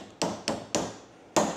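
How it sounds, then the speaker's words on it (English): Four sharp hammer strikes drive a cap onto an Agri-Fab tow-behind broadcast spreader during assembly, each a crisp, close tap with a short ring, spaced irregularly with a longer pause before the last, no talking. "Take the cap and we're gonna hammer it in."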